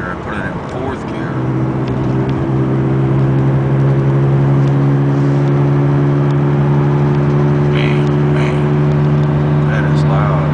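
A 2002 VW Beetle TDI with a worn passenger-side front wheel bearing drones loudly and steadily while driving in third and fourth gear, a sustained hum rising in pitch at the start and holding to the end.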